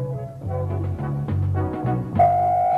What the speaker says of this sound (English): Sour echo, a flaw.